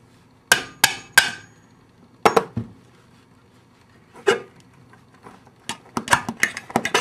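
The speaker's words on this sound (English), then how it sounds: "you start a hole with your awl or other pointy object." Sharp metallic hammer taps on an awl starting a hole, in small clusters, several quick strikes followed by pauses, close and fairly loud with a short ringing decay.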